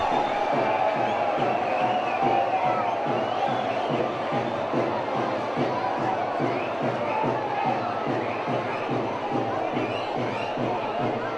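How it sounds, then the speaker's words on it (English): A stadium crowd at a Leeds versus Harlequins rugby union match cheers and roars continuously, a broad, sustained wall of voices from the stands with rhythmic chanting pulses running beneath it. "that's got the biggest cheer of the night so far from the south stand"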